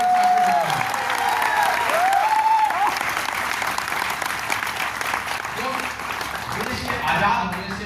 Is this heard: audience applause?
yes